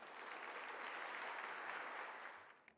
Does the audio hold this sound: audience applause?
yes